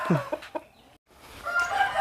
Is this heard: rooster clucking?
yes